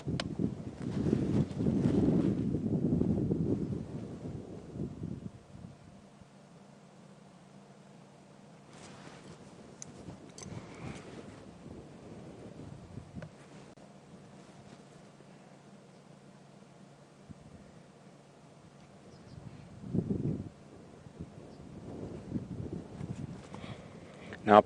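Wind gusting during a sunrise wildlife safari drive in the bush, buffeting in low rumbling bursts at the start and again near the end, with quieter stretches in between.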